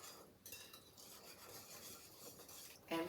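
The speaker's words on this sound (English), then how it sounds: "Okay, I'm going to whisk a little bit more" A whisk scrapes and stirs whole milk in a bowl for corn pudding, a faint, steady rasping swirl that ends in a louder clatter.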